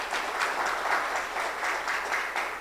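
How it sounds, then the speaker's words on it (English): An audience at a health forum applauds panelists, steady sustained clapping from many hands throughout, fairly close and even in loudness. "We can give them a major round of applause."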